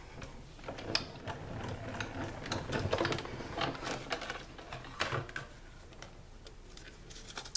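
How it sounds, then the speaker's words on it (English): A Stampin' Up die-cut embossing machine cranked by hand with a 3D embossing folder, cutting pad and Whisper White cardstock, giving a steady close grinding, clicking ratchet-like mechanical run with irregular louder creaks throughout. "we'll add one cutting pad to the top of the machine and crank that through"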